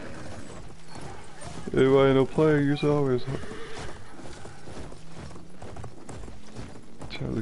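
Horse hooves clip-clop in the Battlefield 1 video game, a horse neighing loudly partway through, all mixed under game sounds while players talk.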